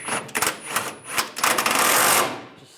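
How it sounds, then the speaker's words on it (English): A ratchet with a 15 mm socket tightens leaf spring shackle bolts on a 2007-2013 Chevrolet Silverado, giving bursts of sharp, close clicking with short pauses, ending in a longer steady run. "we're just going to tighten them down using the 15 millimeter socket"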